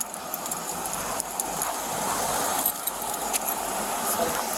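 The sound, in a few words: house keys jangling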